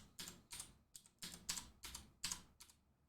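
Computer keyboard keys pressed in quick repeated shortcut combinations, Control, Alt and arrow keys, giving about eight crisp clicky bursts in an irregular rhythm, close and fairly quiet, with no talking.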